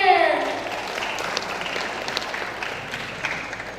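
Audience applause for a participant at a school speech contest, a moderate wash of clapping that follows a voice at the start and holds fairly steady.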